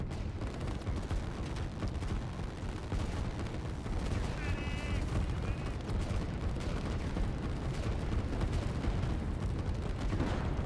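Artillery fire in the Line War strategy game, a continuous dense barrage of booming and crackling shots rolling without pause, with a brief whistling tone partway through.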